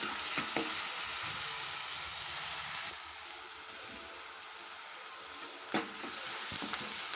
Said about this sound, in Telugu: చక్కగా ఇవి గోల్డెన్ కలర్ వచ్చే వరకు అయితే ఫ్రై అవ్వాలండి